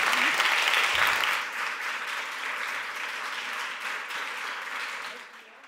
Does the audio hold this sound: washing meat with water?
no